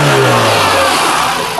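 A used car at a Karachi Sunday car bazaar starts and revs, its engine loud and close, rising in a short surge before settling, with no speech over it.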